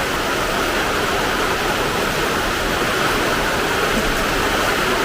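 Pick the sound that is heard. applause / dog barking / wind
wind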